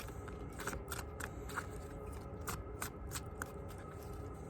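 Chakra oracle card deck being shuffled by hand, a close series of quick crisp riffling flutters and taps in irregular bursts, quiet and alone without speech.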